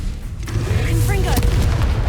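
In Hogwarts Legacy, a Confringo blasting spell erupts in a deep, rumbling boom amid combat noise, with a voice calling out briefly over the blast.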